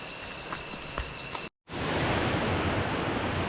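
A large waterfall in the Costa Rican outdoors, with a second cascade nearby, gives a steady, loud broadband rush that fills the scene, cut by a brief silent gap before resuming even stronger.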